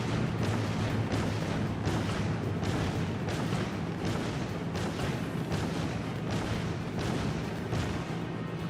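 Cannon fire in Paper Mario: The Origami King, a rapid run of about a dozen booming shots at a steady, fast rhythm, loud and continuous over a low rumbling game background with no voices.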